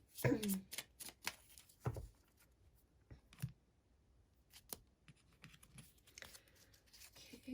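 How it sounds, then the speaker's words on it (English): Spell cards are drawn from a deck, giving a series of close, light papery slides, flicks and taps with a soft crinkle, scattered irregularly across quiet background. "Let's draw you a few spell cards"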